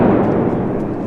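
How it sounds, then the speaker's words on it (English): At a football match pyro show in Odense, a huge explosion leaves a loud, dense low rumble that stays powerful through the short moment, close and overwhelming with no talk. "there was a huge explosion"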